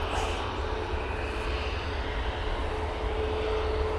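Airplane arriving at Manchester Airport, a steady low engine rumble and rushing drone heard from some distance, continuous throughout with no speech.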